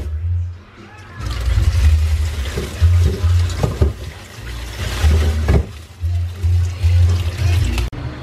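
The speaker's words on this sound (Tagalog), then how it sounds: "Babad ko lang sa tubig para mataw na siya." Water runs from a tap into a bowl to soak pork meat for menudo in a home kitchen, a loud rushing stream that starts and stops in several bursts.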